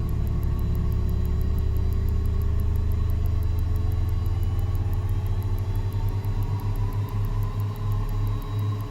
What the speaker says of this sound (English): Other engine, and start engine